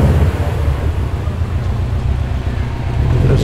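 A car rolls past Harry's Cafe de Wheels in Liverpool, close and loud, its deep steady engine rumble filling the scene with no voices over it.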